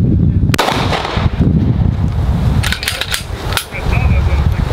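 A brand-new AR-15 rifle fired at targets outdoors: several sharp, loud cracks spaced irregularly over a few seconds, with voices talking around the shots.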